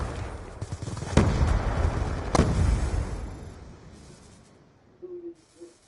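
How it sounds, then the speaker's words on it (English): A frag grenade explodes in Black Ops 2, a broadband blast with a sharp onset, preceded by another sharp bang. The rumble slowly fades, then a short tonal game cue sounds near the end. "Throwing frag!"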